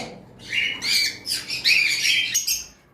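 Pet lovebirds and cockatiels squawk near at hand in a farm aviary, giving a run of loud, shrill, overlapping squawks in quick bursts with short gaps between them.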